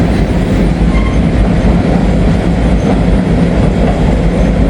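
A freight train rolls past on the track close by, a loud, continuous rumble of wheels and cars with a steady roar throughout, no voices.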